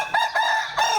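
Hen sitting in its nest on a farm after the rains, giving three quick, close clucks in a short, uneven burst.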